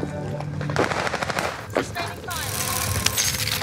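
Rapid bursts of automatic gunfire in the video game Warzone, loud and continuous, with rattling shots layered over other battle noise.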